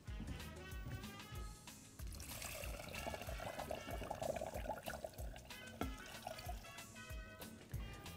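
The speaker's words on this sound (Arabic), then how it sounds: "املاها ميه، فضل ميه" Water runs into a cooking pot holding yellow lentils, wheat and soaked chickpeas, a steady close trickle and pour lasting several seconds with faint kitchen clatter.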